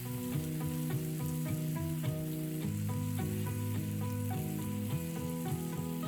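Dried fish and red tomatoes fry in a pan outdoors for a Filipino dish, giving a steady, close sizzle with an ongoing crackle and a light stirring texture throughout, no voices present.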